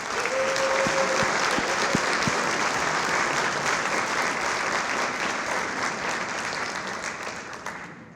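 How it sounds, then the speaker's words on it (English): An audience at an event breaks into applause, a dense, steady wash of clapping that carries on for several seconds and slowly tapers, alone without talk. "Let's give everyone a round of applause."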